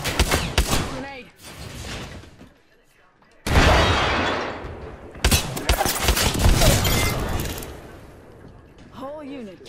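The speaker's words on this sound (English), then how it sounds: "Grenade." A grenade explosion and bursts of automatic gunfire ring out in the Apex Legends video game. Sharp shots are followed by a heavy blast midway, then more rapid fire. A voice talks over parts of it.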